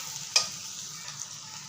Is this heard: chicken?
yes